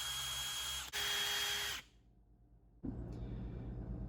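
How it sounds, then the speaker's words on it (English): Power drill running with a 3/16 inch bit, boring a hole through the center of a piece for a homemade buck grunt call: a steady high whine that briefly dips, stops for about a second, then starts again just as loud. "I'm actually going to start out with a 3/16 inch bit and try and shoot a hole through the center of this."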